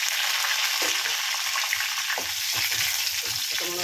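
Green chillies and curry leaves frying in hot oil in a pan, a loud, continuous close-up sizzle with small crackles and stirring scrapes throughout, no voices.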